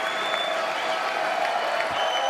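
Applause fills the chamber at a State of the Union address, a steady, even wash of clapping from a large crowd, heard faintly through a stream broadcast with a low voice talking faintly underneath.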